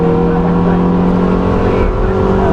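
Onboard a Toyota MR2 race car in a championship race at Silverstone, the engine drones loud and close with a dense, steady buzz, its pitch holding nearly level, with a commentator's voice faintly under it.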